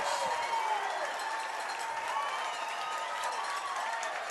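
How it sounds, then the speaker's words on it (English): A high school football crowd at Lakes versus Enumclaw roars after a 1-yard touchdown plunge, a broad distant swell of cheering and clapping holding steady throughout. "You can hear the crowd"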